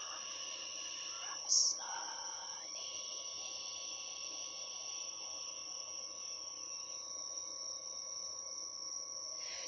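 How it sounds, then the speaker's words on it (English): Crickets chirping outdoors after sunset, a faint continuous high-pitched trill that runs steadily throughout, with a brief soft clatter early on and a hushed voice underneath. "Do you hear crickets outside? Very active after sun goes down."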